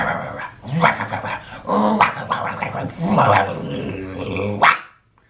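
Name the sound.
small dog barking and growling, like a terrier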